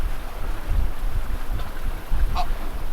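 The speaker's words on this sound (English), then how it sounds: "We're slipping through the water like a slippery fish." A sailboat runs on a broad reach across the Irish Sea at nearly 8 knots in a 16-knot breeze, giving a steady rush of wind and water around the hull with low wind buffeting throughout.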